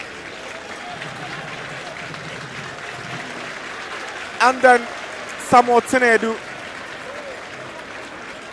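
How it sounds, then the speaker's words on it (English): Football fans in a stadium at a Berekum Chelsea vs Medeama SC match applaud a substituted player, a steady round of crowd clapping running underneath a commentator's speech. "Anani will get a standing ovation and a round of applause from the fans."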